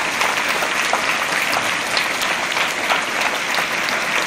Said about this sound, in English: So let us give a big round of applause for all scientists of ISRO